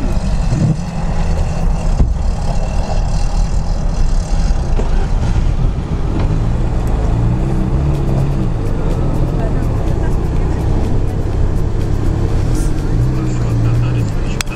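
A stock car without limited-slip differentials, on ordinary wheels with Mitsubishi offset, drives a difficult route at an off-road competition in Orsk. Its engine drones steadily and loudly throughout, with pitch rising and falling as it works over rough terrain.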